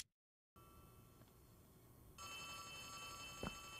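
A telephone rings inside the horror video game Poppy Playtime Chapter 3, a faint, steady electronic ring that starts after a brief silence, swells a little louder midway and carries a single sharp click near the end.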